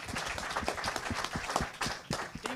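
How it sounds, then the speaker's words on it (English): Panelists at a housing summit receive applause from the audience, a quiet but dense flurry of many hands clapping in an irregular patter, heard somewhat distant and without speech over it. "Please give a big round of applause for our panelists."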